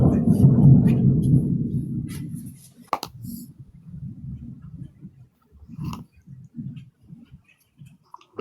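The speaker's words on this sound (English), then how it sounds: "I think it's thunder, thunderstorm." Thunder from a thunderstorm rolls as a deep, loud rumble for a couple of seconds before fading, leaving scattered clicks and faint, muffled voices.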